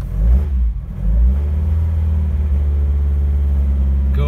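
An old Ford RS with no choke cranks and catches, then its engine settles into a loud, close, rumbling idle with a slightly raised rev that holds steady.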